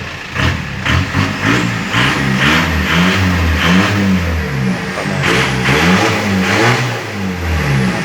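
A newly built car engine revs repeatedly, rising and falling in loud close bursts with a rough mid-range growl and brief dips toward idle between pulls.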